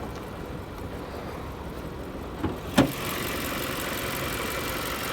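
Turbocharged inline four-cylinder engine of a 2020 Jaguar F-Pace 30t AWD idling under the hood, a steady low hum with a couple of brief clicks near the middle, no talking.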